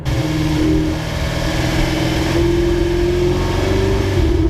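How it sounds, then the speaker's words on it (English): A loud, continuous exhaust rumble from a Ferrari 488 GTB as the engine revs, deep and throaty with a steady, rising drone throughout. "ruffle noise it's got on the old exhaust here."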